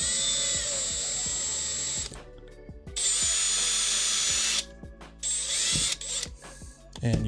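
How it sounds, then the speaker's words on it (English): A CNC mill with a BLDC spindle drills holes side by side, giving a loud high whine in bursts separated by short quiet gaps, with clicking mechanical knocks along the way. "That's when you drill 2 holes next to each other."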